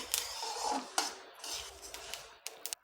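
Flax seeds dry roasting in a pan give off sharp scattered crackles and pops along with scraping and light clinks from stirring, close and fairly quiet, ending in a few distinct snaps.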